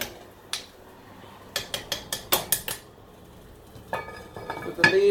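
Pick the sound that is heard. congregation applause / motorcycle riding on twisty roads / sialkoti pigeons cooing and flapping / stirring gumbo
stirring gumbo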